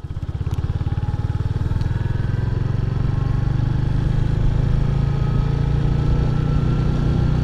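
A 350cc motorcycle engine thrums steadily and close, its throb holding loud and even as it picks up speed in eco mode.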